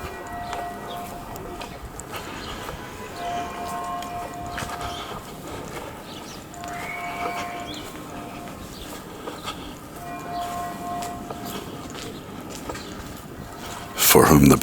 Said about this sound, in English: I don't know why that church bell is ringing.